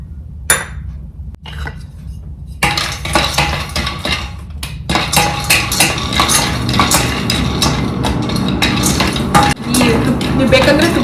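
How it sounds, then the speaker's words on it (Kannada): Almonds frying in a pan for dry fruit laddu: metallic clinks and scraping stir strokes, sparse at first, then a busy, continuous clatter of utensil against pan, close and fairly loud. "ನೆಕ್ಸ್ಟ್ ನಾನು ಆಲ್ಮಂಡ್ಸ್ನ ಫ್ರೈ ಮಾಡ್ತೀನಿ"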